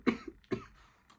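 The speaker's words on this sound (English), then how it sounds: "Sorry guys, I just coughed." Two short, close coughs from a person with a cold, a quick pair of dry bursts followed by a faint breath, alone without speech.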